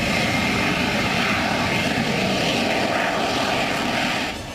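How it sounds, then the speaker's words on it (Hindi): Military fighter jets fly over during strikes on Hamas positions, heard as a loud, steady, broadband engine roar that holds for several seconds and eases slightly at the end, with no voices. "हमास के ठिकानों पर बम बरसाने के लिए दिन रात ये फाइटर जेट्स उड़ान भरते हैं"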